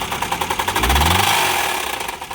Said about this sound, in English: Started up with a jump. You can hear the loud knock.